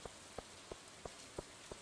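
Rain in the Stardew Valley video game, a soft steady hiss with evenly spaced drip-like ticks about three times a second, faint and heard alone with no talking.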